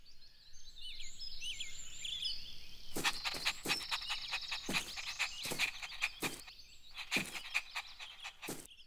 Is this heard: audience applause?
no